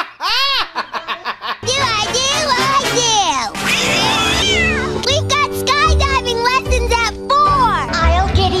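Repeated high, wavering cartoon cat meows ring out over lively background music and voices, the mewing rising and falling in pitch.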